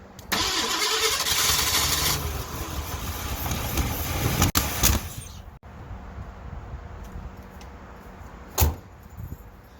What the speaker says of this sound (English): it ran for a second. It actually ran. Okay, it backfired through the carburetor.